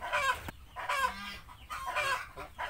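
Newly hatched ducklings peep in bursts of high, thin chirps, several calls close together at close range with short pauses between them.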